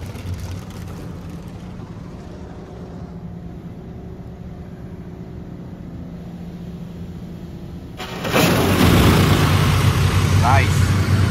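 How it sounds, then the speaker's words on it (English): Car wash wheel scrubbers on a tandem Protouch wash at an HEB on Grant Road, Cypress, Texas, kick in suddenly with a loud broadband whirring and spraying roar, following a quieter stretch of steady mechanical hum heard from inside the car. "Now we're getting wheel scrubbers."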